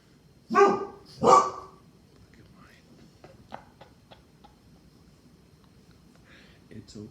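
Two loud, close dog barks from the neighbors' dogs next door ring out in quick succession, then give way to a quiet stretch with a few faint ticks and clicks.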